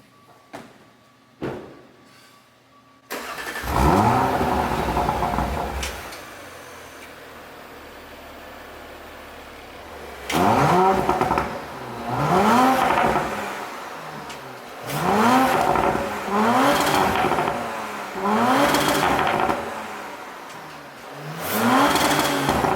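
Audi RS5 Sportback V6 exhaust at the rear, revved repeatedly in loud sharp bursts that rise and fall, several blips after a brief start, with no talking.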